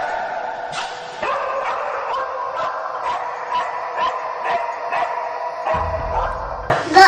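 A cadaver dog barks repeatedly and close, sharp yips at a fairly regular rhythm that continue for several seconds, ending with a louder final burst.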